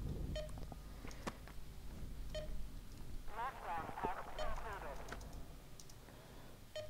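Electronic beeping from the video game Lost, heard as short repeated tones around the middle of the clip beneath clicking and a person talking over the game.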